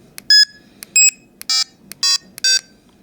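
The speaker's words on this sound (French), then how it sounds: "Donc un bip, faible sensibilité, 4 bips, forte sensibilité." A Prowess NOS detector sounds a series of five short, clear electronic beeps, each a different pitch, spaced about half a second apart with faint clicks and quiet room noise between them.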